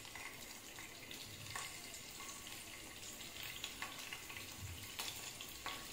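Chopped garlic tipped into hot oil in a kadai, a steady close sizzle and hiss of frying with a few soft stirring scrapes throughout.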